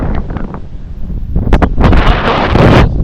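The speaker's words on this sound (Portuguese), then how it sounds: "Mas tá ventando muito aqui em cima." Strong wind on a cold Alaskan mountaintop, around minus 12 degrees, buffets the microphone in heavy, roaring gusts, building to a loud sustained rush toward the end.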